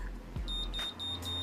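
A short series of high, thin electronic beeps from a BaByliss automatic hair curler, evenly spaced, with a soft click and handling noise beneath.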